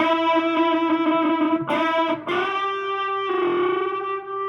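Sustained distorted electric guitar notes, first a wavering, sour unison bend beating against itself, then a cleaner, steadier bend that settles in tune.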